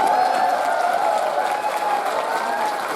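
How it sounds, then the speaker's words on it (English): Steady applause from a large convention crowd, dense and continuous clapping that fills the room at an even level throughout. "Can we like applaud for the people who are still coming in?"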